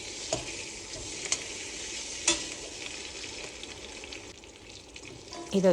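Eggs gently roasting in a kadai over a low flame, a steady close sizzle with occasional soft ticks and a brief clink of a utensil near the end; nobody speaks.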